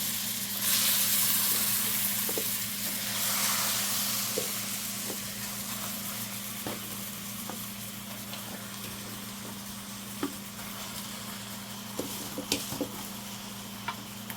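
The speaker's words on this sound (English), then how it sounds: "Add the meat to the pot." Meat sizzles and hisses steadily in a pot on a stove set to low, with occasional clicks and scrapes of stirring over a low hum, no voices.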